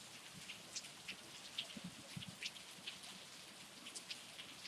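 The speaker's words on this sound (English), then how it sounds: "Rain, rain, go away." Rain falls outdoors on a wet day in Redlands, California, a soft steady patter with scattered distinct drops, faint and even, with no voices.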